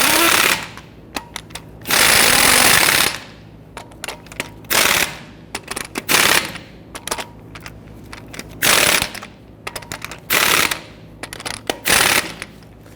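An impact wrench tightens lug nuts on a 2010-2019 Ford Taurus wheel in a crisscross pattern, firing in loud, sharp one-second rattling bursts separated by short pauses and faint clicks.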